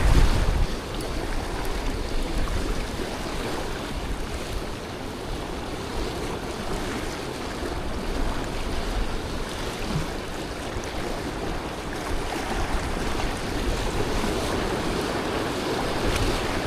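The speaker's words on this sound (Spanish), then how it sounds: "no está el mar demasiado bravo" Sea surf at Baiona, Galicia, on a fairly calm day, a steady broadband wash of small waves breaking near the shore with wind rumble on the microphone, continuous and fairly loud throughout with no talk.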